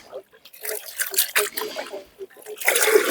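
Water swilling and sloshing in a gold pan as finely sieved clay is washed at a cold creek, irregular splashy surges with trickling between them, close up, over the murmur of someone talking.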